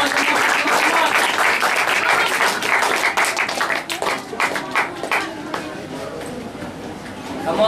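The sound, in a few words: audience clapping at a debate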